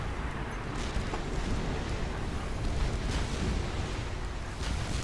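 Distant artillery fire rumbles through a Supreme Commander 2 battle, a steady low roar with faint muffled blasts rather than distinct sharp reports, loud throughout with no voices.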